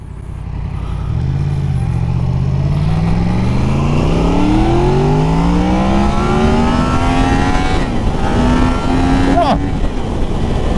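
A Yamaha MT-10 motorcycle of 160 horsepower accelerates hard through first and second gear, its loud close engine note climbing steeply, dipping at the shift, then rising again with a rider's voice faintly beneath.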